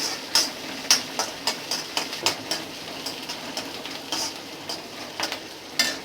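Shallots frying in a pan with a soft sizzle, broken up by a steady run of sharp ticking scrapes and taps as they are stirred, moderately close and with no talking.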